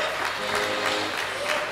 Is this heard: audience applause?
yes